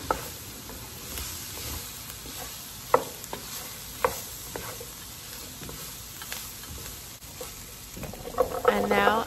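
Flour-coated stew meat being stirred in a pot for carne guisada, with soft scraping and sizzling throughout and a few sharper clinks of the spoon against the pot, louder near the end.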